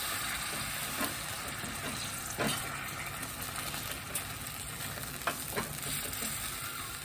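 Jaggery melts with a splash of water in a pan, giving a steady close sizzle with faint stirring taps and scrapes throughout, and no voices.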